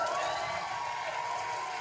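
A studio audience claps and cheers in a continuous dense wash of applause, fairly loud and steady for the whole short moment.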